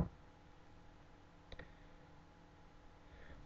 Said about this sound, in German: Da klicke ich jetzt drauf.